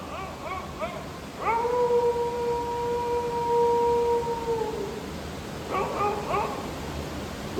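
A man mimics dogs howling in the distance with his voice, giving two short yelps, then one long sustained wavering howl, then a few more brief yips, with a steady hum underneath.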